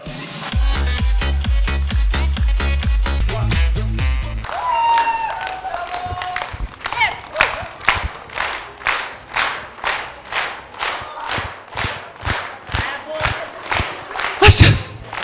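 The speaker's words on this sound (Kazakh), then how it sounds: "Бір шапалақ ұрып қойыңыздар." Guests at a Kazakh wedding feast break into rhythmic unison clapping, about twenty sharp, evenly spaced claps with crowd noise and voices underneath, following a few seconds of loud music.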